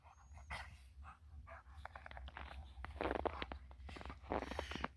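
Dogs outdoors in winter snow let out scattered barks and yelps, irregular and moderately distant, with bursts of activity and rustling between them and no talking over the top.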